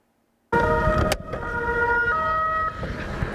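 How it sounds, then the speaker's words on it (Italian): Local police patrol car siren in an Italian town square, starting abruptly as a loud, near tonal wail with steady sustained pitch, one brief sharp burst early on, and traffic noise beneath it. "A sirene spiegate è arrivata in Campomarzo la pattuglia della polizia locale"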